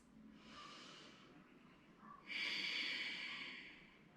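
Two slow, hissing ujjayi yoga breaths pass through a constricted throat with the mouth closed, a softer one followed by a longer, louder, more rasping exhale, close and without talking.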